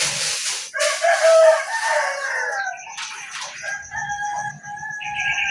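A rooster crows loudly near a farmyard while chickens cluck around it, with no talking, just overlapping calls and clucks throughout.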